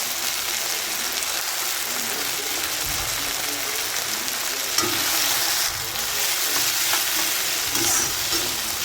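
Tomato ketchup being stirred into a frying dish of kand chilli with soy sauce, a dense, loud, continuous sizzle with soft stirring scrapes throughout.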